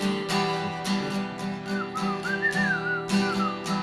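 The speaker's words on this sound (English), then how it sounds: "I can't whistle for Toffee." A single person whistles a wavering melody over steady strummed acoustic guitar, the notes gliding and bending through a short phrase.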